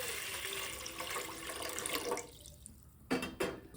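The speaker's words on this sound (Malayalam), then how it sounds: "ഒരു പാത്രത്തിൽ ഈ ഇഡ്ഡലി ചെമ്പിൽ കൊള്ളുന്ന ലെവലിൽ ഒരു പാത്രത്തിൽ വെള്ളം ഒഴിക്കുക" Water is poured from a vessel into another pot to fill an idli steamer in a home kitchen, a steady splashing stream that stops and is followed by two short sloshes.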